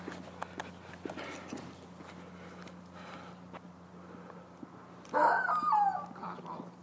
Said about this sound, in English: Hello, dog.